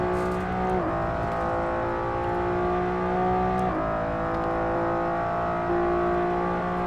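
A 380-horsepower Honda NSX GT2 race car engine in Assetto Corsa, accelerating hard with a loud, steady high-revving tone broken by two quick upshifts.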